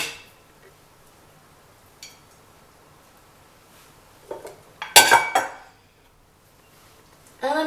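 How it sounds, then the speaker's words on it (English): Chopped carrots and onions tipped into a cooking pot for blanquette de veau give a quick burst of clinks and rattles midway, with a few faint knocks before it and a brief clatter at the end, against a quiet kitchen. "I'm going to add my carrots that I cut up. I'm going to add my onions."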